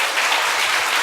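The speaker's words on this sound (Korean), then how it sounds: "박수" A church congregation bursts into a short, dense round of applause during a Sunday afternoon service, loud, close and uninterrupted.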